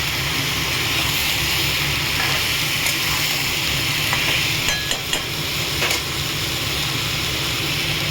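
Peas sautéing in a pan with ginger paste water, a steady close sizzle and bubbling hiss with occasional spatula scrapes and stirs, no talking.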